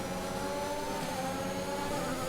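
Race car engines in the F1 2021 video game at the Austrian GP, a steady high-pitched whine of several engines droning together, fairly faint and continuous without a break.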